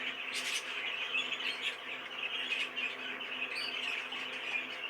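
Birds chirp and tweet steadily over a dense background, small calls overlapping continuously at moderate volume throughout.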